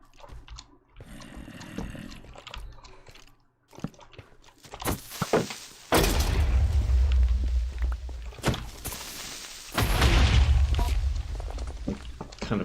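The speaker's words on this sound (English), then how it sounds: "Kind of killing the creeper just by explosions here." Creeper explosions in Minecraft, two heavy booming blasts, each followed by a rumbling tail, with quieter game clatter and footsteps before them.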